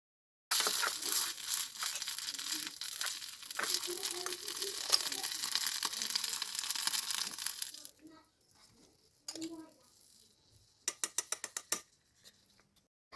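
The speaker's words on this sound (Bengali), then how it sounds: "ওগুলো দিয়ে আমি ভালোভাবে কষিয়ে নিব। কষানোর সময় কড়াইটা বারবার এক সাইড হয়ে যাচ্ছিল, তা আমি এটা আবার খুন্তি দিয়ে বারবার ঠিক করে দিচ্ছি।" Ginger, cumin and garlic paste sizzle loudly in a mini wok for several seconds, then quieten as a spatula scrapes and taps the pan in short bursts, ending in a quick run of metallic clicks.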